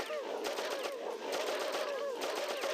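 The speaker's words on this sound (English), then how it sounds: "it's gonna be nothing but just shooting, and shooting, and shooting" Rapid gunfire bursts from the video game Oddworld: Abe's Oddysee, machine-gun-like volleys repeating steadily across the span over a dense synthetic background.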